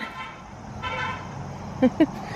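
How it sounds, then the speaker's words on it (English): Busy main-street traffic rumbles steadily in the background, broken near the end by two short, close car horn toots in quick succession. "Sorry guys if you hear the traffic. I live on a main street, so we're a busy street."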